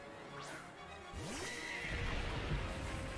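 A Glastrier horse Pokémon cry from Pokémon Sword and Shield: a loud, rough whinny with a falling neigh and crashing impact noise, over continuous game background sound.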